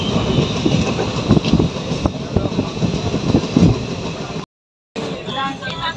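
Steady rumble and clatter of a moving train on the Ujjain to Pune route, heard from inside the carriage. The noise runs loud and continuous, cuts out briefly near the end, then resumes.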